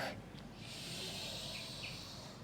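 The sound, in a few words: exhaling breath during abdominal exercise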